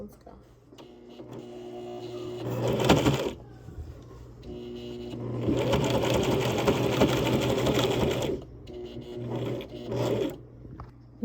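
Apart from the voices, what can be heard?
sewing machine zigzag stitching an apron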